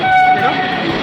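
A train at an Old Delhi railway station rumbles close and loud in one short burst, with a steady horn-like tone and voices around it.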